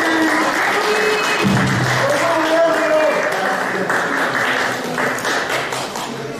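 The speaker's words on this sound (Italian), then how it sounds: "facciamo tutti insieme gli auguri per il 50° anno di età di Angelo, un applauso" Applause from an audience at a book presentation honoring a man's 50th birthday, steady dense clapping sustained throughout under a murmur of voices.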